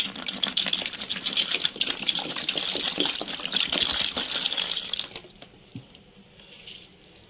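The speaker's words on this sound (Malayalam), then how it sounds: "ബക്കറ്റ് എടുത്ത് ബക്കറ്റിലേക്ക് 1/2 ലിറ്റർ വെള്ളം ഒഴിക്കുന്നു." Water pouring into a bucket, a steady gushing splash close by that runs for about five seconds, then stops and leaves a few quiet drips and handling noises.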